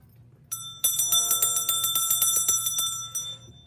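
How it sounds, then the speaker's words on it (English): A small bell rings in a quick, steady series of bright metallic strikes for about three seconds, close and clear over a low background hum, with no talking. "Ring the bell."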